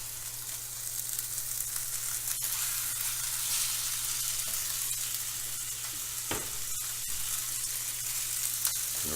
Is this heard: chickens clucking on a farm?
no